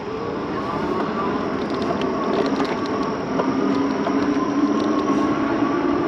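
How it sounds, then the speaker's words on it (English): A steady mechanical whir and rumble of a Cyrusher Ovia 20-inch fat-tire e-bike motor while riding, continuous and fairly loud, with road and wind noise underneath and no talking. "It's got a little noise to the motor."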